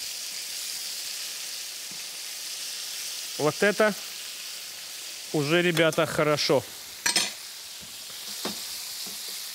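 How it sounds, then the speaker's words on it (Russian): Fish coated in flour and turmeric frying in a pan for a Bengali-style dish, a steady close sizzle of hot oil throughout, with someone briefly speaking over it in the middle. "Вот рыбка себе жарится."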